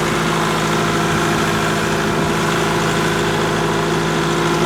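A Kubota M5660 SU tractor with shuttle shift runs loud and steady as the clutch is let out and it pulls away in low range, a continuous diesel drone close by with no speech.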